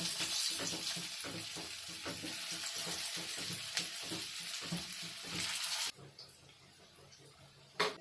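Hara bhara veg kebabs sizzle and fry steadily in oil in a pan, a close, continuous crackle that cuts off abruptly partway through, leaving quiet kitchen noise and one sharp clink near the end.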